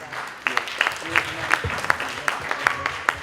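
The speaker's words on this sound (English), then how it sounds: "Let's have a round of applause for Community Board 10." Scattered applause from an outdoor crowd at a Harlem community music and health fair, with a few loud individual claps rhythmically standing out over a softer background of clapping and crowd murmur.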